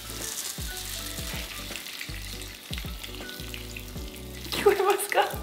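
Skincare product fizzing and crackling as it is applied to the face and hands, a busy sizzling hiss over soft background music that grows louder toward the end.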